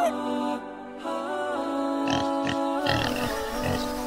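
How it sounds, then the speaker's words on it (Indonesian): A few short pig grunts come through over sustained background music, spaced unevenly and fairly soft. "Khinzirun babi."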